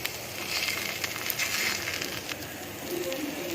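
Ragi roti frying slowly in a pan over a medium flame, giving a soft, steady sizzle and crackle that runs throughout at low level, close by.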